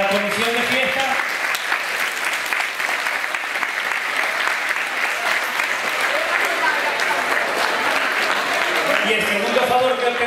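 An outdoor festival crowd at a town fair in Ojén applauds the festival committee with sustained, dense clapping that stays loud for the whole stretch, with a voice faintly present underneath.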